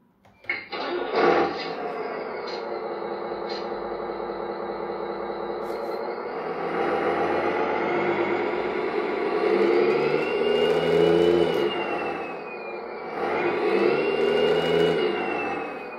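A 1/14 scale Scania S730 RC truck's simulated engine sound runs steadily for about sixteen seconds, with a loud whirring drone that swells in pitch twice as if revving, close and without speech.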